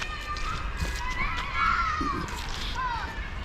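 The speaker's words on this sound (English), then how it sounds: "all the kids enjoying themselves, mucking about" Children play and shout in a school yard beside a village route along the Camino de Santiago, a steady mass of high, excited voices and calls from a moderate distance, with nearby talk and footsteps.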